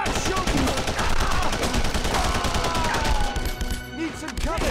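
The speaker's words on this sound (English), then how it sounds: "Start shooting!" Dense, continuous gunfire from The Punisher on PS2 rattles through the whole stretch in rapid overlapping bursts, loud and close, with voices calling out beneath the shooting.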